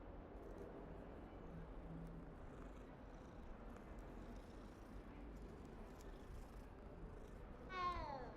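Quiet low purring from a cat in Hogwarts Legacy runs beneath a faint ambient hum, broken near the end by a single clear meow nearby.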